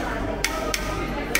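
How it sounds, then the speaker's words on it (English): A craftsman strikes pewter with a hammer at a hammering station, three sharp separate taps spaced unevenly, close and fairly loud over a steady room hum. "Alright, so this is the hammering station."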